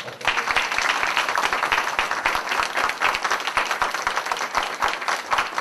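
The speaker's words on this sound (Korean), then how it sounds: "큰 박수 한번 부탁드립니다" A crowd applauds loudly and steadily for a candidate at a Korean parliamentary election announcement press conference, the dense clapping sustained throughout.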